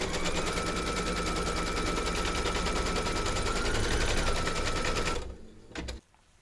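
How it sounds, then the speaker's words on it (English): An embroidery machine stitches a placement outline, a rapid, even mechanical chatter that runs loud and steady for about five seconds, then stops, leaving a few short clunks and quiet. "Pop your hoop into your machine and stitch round number one."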